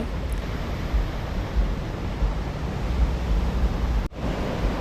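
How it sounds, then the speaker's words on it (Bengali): Night surf on Patong beach in Phuket as the tide rolls in near the feet: a steady, dense roar of waves with light wind and a brief dropout near the end. "এখন জোয়ার এসছে, এই জোয়ারের জল একদম ছাপিয়ে চলে আসছে এই পায়ের কাছে"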